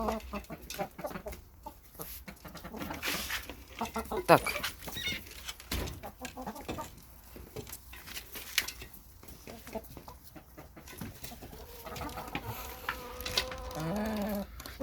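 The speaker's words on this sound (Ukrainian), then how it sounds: "От, от то ж півень." Chickens clucking and a rooster calling around a farmyard, with scattered bird sounds and a person talking briefly now and then.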